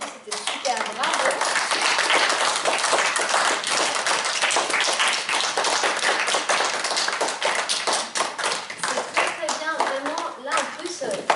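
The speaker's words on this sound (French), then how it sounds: "vous pouvez vous applaudir pour l'atelier d'aujourd'hui" Children in a philosophy-for-kids workshop break into dense, steady clapping that carries through the whole stretch, with young voices chattering underneath.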